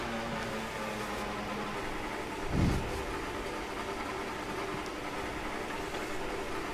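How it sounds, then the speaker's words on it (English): An F1 2018 racing car engine runs steadily in the game at the Canadian Grand Prix, a continuous mid-pitched hum with one brief swell partway through. "Engine fired, we're set."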